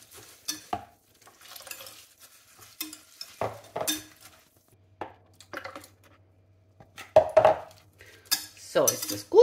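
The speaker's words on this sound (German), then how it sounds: "hier rühre ich mit dem Schneebesen Milch hinein" A whisk stirs milk into oat flakes in a pot, making intermittent scraping and clinking bursts separated by quiet pauses.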